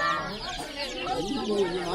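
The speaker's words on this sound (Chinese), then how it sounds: "一路都听到小鸡叫声， 原来这里在卖染色小鸡。" Dyed baby chicks cheep at a busy outdoor market, a cluster of high, rapid chirps close by, mixed with crowd murmur and voices.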